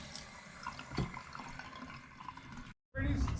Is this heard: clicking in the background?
no